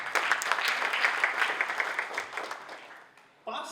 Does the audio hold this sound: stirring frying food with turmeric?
no